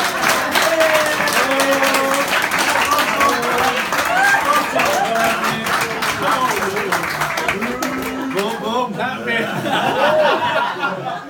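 An audience at a wedding reception bursts into sustained applause and clapping mixed with chuckles and laughter after a father of the bride's joke, loud and close, fading toward the end.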